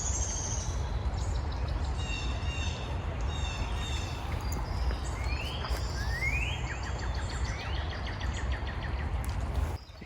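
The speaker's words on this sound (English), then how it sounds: "It's also so nice to be listening to all these birds chirping" Several birds chirp and trill in short rising calls over a constant low rumble of outdoor background noise.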